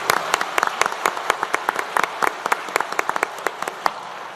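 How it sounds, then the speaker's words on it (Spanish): An audience at an international law seminar claps to welcome a speaker. Individual sharp claps stand out clearly over a steady bed of applause, fairly close and lively, with no one talking. "Siempre el aplauso al inicio compromete más al expositor"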